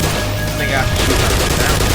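Gunfire in the Half-Life video game, a dense continuous burst of loud shots that fills the whole moment, with a voice faintly underneath.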